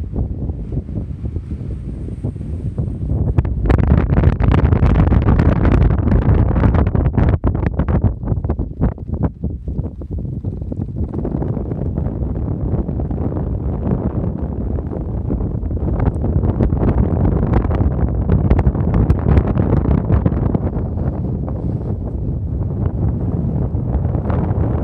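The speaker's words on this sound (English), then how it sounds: "Actual wind up here is about 10 times worse than it sounds." Strong wind on a mountain hike buffets the microphone in a continuous loud roar with gusting surges, heard alone and without talking.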